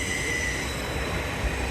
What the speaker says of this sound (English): we've got a train coming in there.